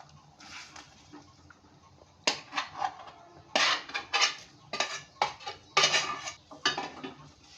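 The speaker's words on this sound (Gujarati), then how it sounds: "હવે આપણે બધી ઢોકળી તેમાં શાકમાં એડ કરી દઈશું" Methi dhokli pieces tumble into a pot of Kathiyawadi vegetable curry with sharp metal clinks and scraping spoon clatter in irregular bursts, close and fairly loud after a quiet start.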